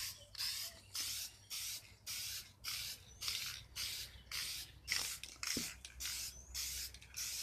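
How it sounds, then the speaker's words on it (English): Clear coat is sprayed from a can onto a motorcycle gas tank in a series of short hissing bursts, about a dozen evenly spaced sprays with brief pauses between, close and fairly quiet. "It's dry, so I'll put the clear coat on real quick."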